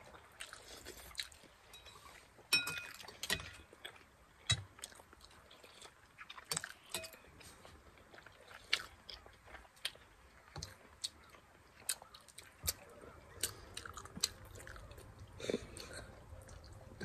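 Loud, close mukbang chewing and smacking of food fills the stretch, with wet clicks, crunchy bites and irregular mouth sounds repeating throughout against a quiet background.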